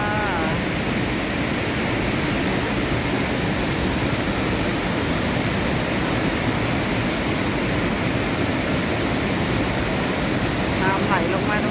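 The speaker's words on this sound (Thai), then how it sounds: "น้ำไหลลงมาตรงนี้นะน้ำไหลแรงมากเลย" Mae Ya waterfall in Chiang Mai roars with strongly falling water, a loud, steady broadband rush that continues unbroken throughout, close by.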